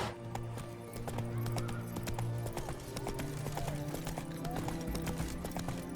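Horse hooves clip-clop at a gallop in The Witcher 3 video game, a steady rhythmic beat under game music, with occasional whinnies and a voice speaking briefly.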